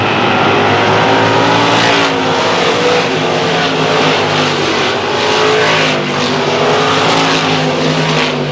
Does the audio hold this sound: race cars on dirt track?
yes